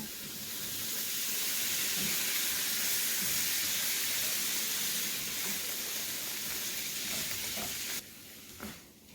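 Tomatoes and cut chicken added to a pan with spice powders for sambar give a steady, dense sizzle and hiss that holds loud and continuous, then drops slightly near the end with a faint clink, no voices.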